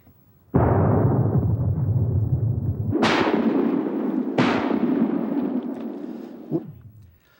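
Shotgun blasts fired at woodcock during a hunt, with a loud sustained roar at the start followed by two sharp, loud reports about a second and a half apart and a smaller pop near the end.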